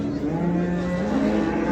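A cow lets out a long, loud, close moo at a busy livestock market, with a slight pitch shift midway and background crowd and traffic noise.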